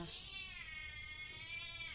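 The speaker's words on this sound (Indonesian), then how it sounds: "Memberi makan kucing." A cat gives one drawn-out, faint meow while being fed, alone over a quiet background.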